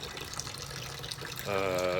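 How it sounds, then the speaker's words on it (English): Sparge water poured over the grain bed during a home brew day, fly sparging onto tin foil: a steady close splashing trickle that swells into a louder gushing stream near the end, with no talking. "adding sparge water on top of the grains, fly sparging with tin foil"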